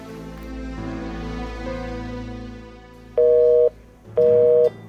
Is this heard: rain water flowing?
no